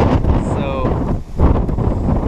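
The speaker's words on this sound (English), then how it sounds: "It's a nice pond, but it's really, really windy." Strong wind buffets the microphone beside a stock pond stocked with rainbow and brook trout, a loud continuous roaring gust with a brief lull near the middle.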